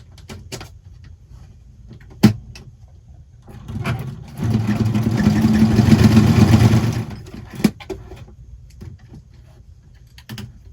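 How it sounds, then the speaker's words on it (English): A sewing machine stitches through thick junk journal material in one continuous whirring run of about three seconds, framed by quiet clicks and handling knocks before and after. "I just want to see if I can sew through this."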